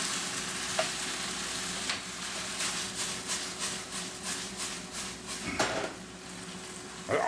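Aldi prawns and calamari stir fry sizzle steadily in a hot pan, a constant close hiss with occasional scrapes and taps of a utensil stirring, no voices over it.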